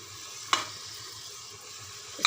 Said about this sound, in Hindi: इसको अच्छी तरह आप भुनाई करेंगे मसाले को